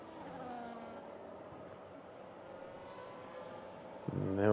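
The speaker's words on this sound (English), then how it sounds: "And there we go, Little Majin moving up into 6th" Race cars in an F1 video game at Abu Dhabi, a steady engine whine with shifting pitch as one car overtakes another, fairly quiet, ending in a sudden louder burst.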